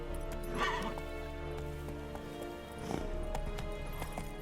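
Horse hooves clip-clopping at a steady pace in The Witcher 3: Wild Hunt on PS5, a continuous rhythmic trot under a game music bed, with a brief whinny-like sound near the start.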